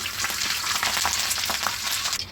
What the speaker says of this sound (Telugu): ఇప్పుడు లాస్ట్లో కొంచెం కొత్తిమీర తీసుకొని ఆయిల్ వేసుకొని ఇలా ఫ్రై చేసుకోవాలండి.